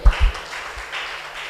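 A church congregation claps their hands during a Tamil sermon, a short, diffuse patter of many hands at moderate loudness with little speech.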